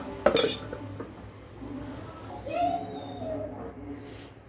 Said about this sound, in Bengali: আমি আরেকটা পাতিল অলরেডি বসাচ্ছি।